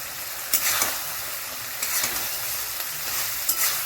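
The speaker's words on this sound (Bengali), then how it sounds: "এবার এটাকেও সমস্ত কিছুর সাথে ভালো করে আমরা ভেজে নেব" Fried prawns get stirred through a sizzling chilli garlic sauce in a pan, a steady close hiss of frying broken by occasional scraping clacks of a spatula against metal.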